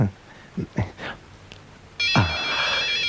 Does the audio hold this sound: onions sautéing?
no